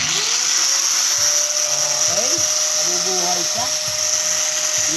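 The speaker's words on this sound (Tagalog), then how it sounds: "Using barena." A high-pitched electric drill whines steadily throughout, with people talking over it.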